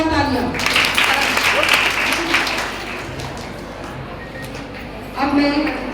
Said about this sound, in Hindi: मैम के लिए जोरदार तालियां।